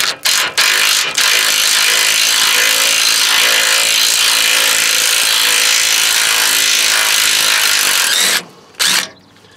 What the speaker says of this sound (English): I'm going to spin them out with impact.